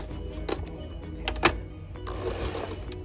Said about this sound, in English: I'm just gonna back stitch a little bit. All right, and now I'm stitching off of the seam.